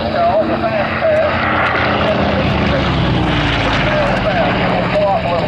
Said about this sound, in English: Coming on in, going down the runway, is what we like to call the fast pass.